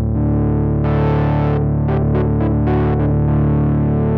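Sustained chord on a Moog Matriarch synthesizer with further notes gated abruptly on and off over it, skipping the amp envelope's attack and release; several short bright stabs sit on top of a steady drone, loud and close.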